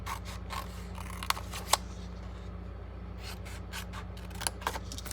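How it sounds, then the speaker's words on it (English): Scissors snip through paper along score lines while a Halloween candy bag is shaped, quiet rustling and rubbing with a few sharper cuts and clicks close by, no voices. "And then we're going to cut up on these intersecting score lines to form the bottom of the bag."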